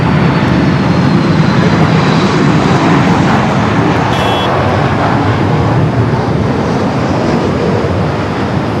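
An ITA Airways Airbus A350-900 airliner roars steadily at LAX, a loud broadband engine rumble filling the whole stretch without letup, with a faint tonal whine briefly audible midway.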